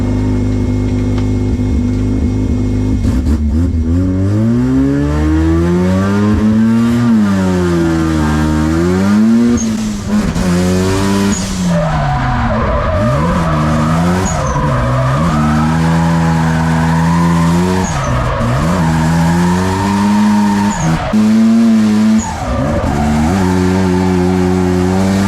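A drift car at the Spanish drift championship final revs hard on track, its engine climbing and falling in loud, continuous sweeps with bursts of tire squeal, up close throughout.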